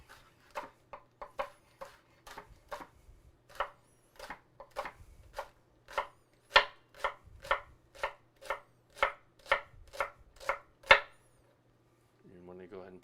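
A knife slices a leek into half-moon pieces on a board, about twenty crisp, evenly spaced cuts close up, ending with a brief voice.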